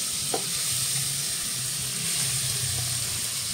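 Continuous loud hiss of grated carrot sizzling in hot ghee, steady and close, with no talking.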